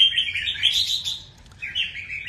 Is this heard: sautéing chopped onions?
no